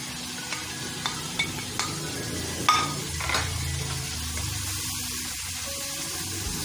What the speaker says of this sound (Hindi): इसको भुनाई करें कीमे के साथ मसाले की।